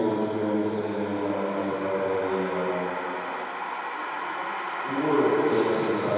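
A model F-22 jet with twin ducted fans flies at an outdoor model aircraft display, its steady whirring drone holding throughout and swelling louder near the end, with faint voices beneath.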